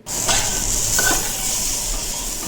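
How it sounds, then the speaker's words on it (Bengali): Steady hiss of potatoes and ridge gourd frying in oil in a pan, with a couple of soft stirring scrapes over the continuous sizzle. "আলু আর ঝিঙাগুলো ভালো করে ভেজে নেওয়ার পর"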